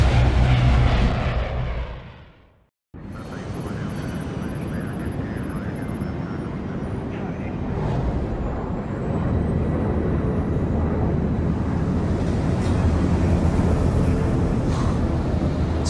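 An airplane engine drone inside a plane in Splinter Cell Blacklist, a steady loud rumbling hum that cuts out briefly after a fading opening, then resumes and holds constant with faint high tones above it.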